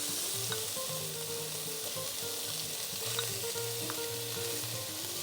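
Bacon and sausage frying together in a pan, a steady dense sizzle close by with a soft spattering hiss that holds throughout, no voices over it.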